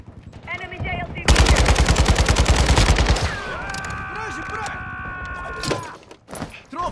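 Rapid automatic gunfire from Call of Duty Modern Warfare 2's Ground War mode, a loud dense burst lasting a couple of seconds, followed by fainter game effects, electronic tones and scattered quieter shots.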